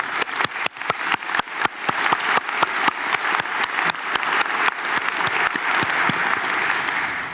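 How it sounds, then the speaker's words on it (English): Applause from the audience at a graduation ceremony, a burst of loud, dense clapping that swells and holds steady for several seconds, heard alone without speech. "Let's give them a clap."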